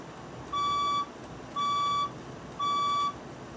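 A building fire alarm sounds during an alarm test with three evenly spaced electronic beeping tones, each about half a second long, over a steady background hum.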